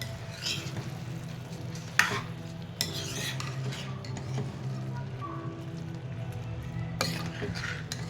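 A spoon stirs elephant foot yam (suran) curry in a pan, with scraping strokes and sharp clinks against the metal over a soft cooking sizzle, close and fairly quiet.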